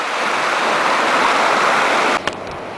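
A river flowing steadily in a scenic outdoor spot, a broad continuous rush of water that stays loud and even, with a brief splash or knock near the end.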